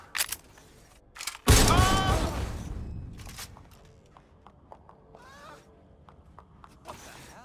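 Gunfire in the video game Watch Dogs Legion: a loud, sharp burst of shots strikes abruptly and rings out, with scattered fainter cracks and clicks following at a distance.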